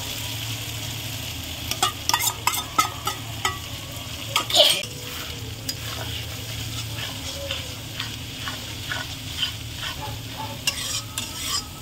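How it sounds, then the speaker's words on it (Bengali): A spice paste mixed with ground cashew and poppy seed paste fries in a pan, a soft continuous sizzle under repeated scraping and stirring clicks of a spoon against the pan. "এবারে মশলাটা আমি আরও কিছুক্ষণ কষিয়ে নেবো বন্ধুরা"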